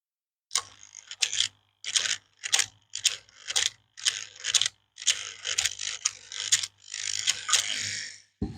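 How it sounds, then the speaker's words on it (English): Toy-grade RC car steering servo chattering and failing to center, a close buzzy mechanical grinding in repeated short bursts with small gaps, ending in a longer sustained whir. "You might be able to hear it chattering away there at the moment."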